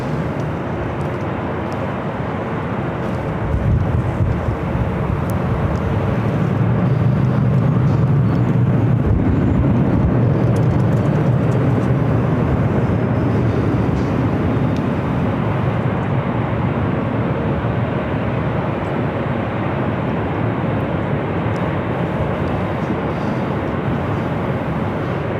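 A Delta airliner takes off on runway 24 left at LAX, its engines building to a loud, broad, sustained roar that holds for many seconds before easing slightly as it moves away.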